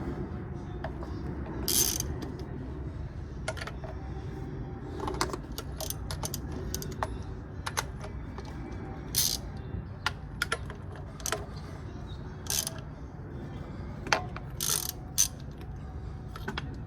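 A socket wrench loosening valve cover bolts one by one on a 2001 Toyota Camry engine, with clicking ratchet bursts and metallic clinks spread through a quiet garage.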